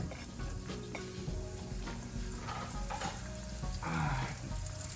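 Corn tortillas fry in olive oil in a pan, giving a steady close sizzle with crackling pops throughout and a brief louder surge of bubbling, no talking.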